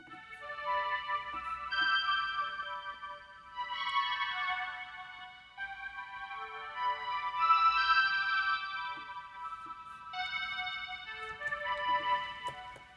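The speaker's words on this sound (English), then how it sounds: "the lead sounds like this." Bright synth lead melody from an electronic music production plays in phrased, bell-like runs at moderate volume for about thirteen seconds, with soft low accompaniment underneath.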